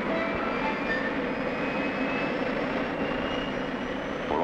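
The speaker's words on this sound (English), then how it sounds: "it's the simplest aircraft engine ever devised" A jet aircraft engine runs at a steady, loud roar with a broad rushing tone and faint whining pitches, continuous throughout with no voices.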